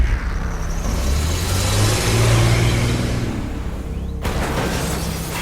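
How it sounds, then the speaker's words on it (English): A car engine revs hard and roars loudly as the car rams through the side of a house, building to a heavy booming crash that cuts off abruptly and leaves a rougher rumble afterward. "The squealing of tires were heard on the streets as the car plowed through the side of the house."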